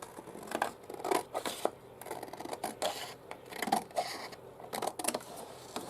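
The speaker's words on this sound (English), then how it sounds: "You just cut around the outside edge of" Scissors cutting around a paper dress shape, close and clear, with repeated snipping strokes and papery rustling in an uneven rhythm, no talking.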